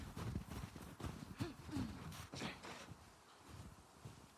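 Horse hooves in The Last of Us Part 2 clip-clopping in an uneven walking rhythm close behind, with a brief snort or whinny and scattered game ambience around them.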